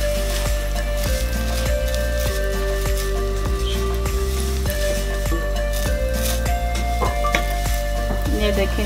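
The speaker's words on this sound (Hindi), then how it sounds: "ये देखें, इसका कलर चेंज होना शुरू हो गया और ये फ्राई भी हो गई हैं।" Nuts fry in a pan for sheer khurma, a constant soft sizzle broken by regular clinks and scrapes of stirring about once a second.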